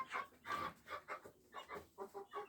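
A large Marans rooster making a series of short clucking, panting calls in close, rhythmic bursts, faint overall.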